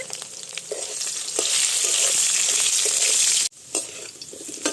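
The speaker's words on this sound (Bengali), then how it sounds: "এবার আমি আলুগুলো ভেজে নেব একটু বড় বড় করে আলু কেটে নিয়েছি" Large chunks of salted potato fry in hot oil with a loud continuous sizzle and occasional stirring scrapes. The sound cuts off sharply near the end, then a quieter sizzle resumes.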